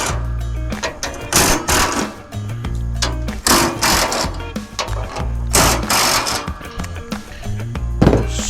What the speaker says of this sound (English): Let's go ahead and just start by taking off this bolt.